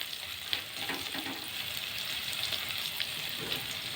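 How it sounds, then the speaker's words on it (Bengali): Chopped onion, potato and chili fry in a wok on a gas stove, giving a steady, close, crackling sizzle with a few sharper pops and stirring scrapes throughout. "এখন কড়াইতে ভাজতে বসে"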